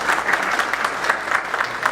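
A crowd claps steadily and warmly at a community show, loud and close, with the rhythmic clapping filling the whole moment and no talk over it.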